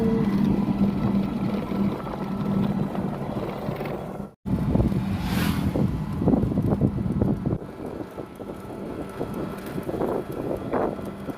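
An electric rickshaw (toto) driven along a road gives a steady mechanical rattle and rumble with wind noise on the microphone, brief clanks and a short dropout partway through, with no talking.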